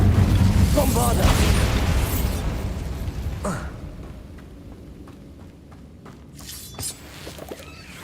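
A Bombarda spell blast in the Hogwarts Legacy video game: a loud burst that rolls off into a fading rumble, followed by scattered smaller pops, with voices around it.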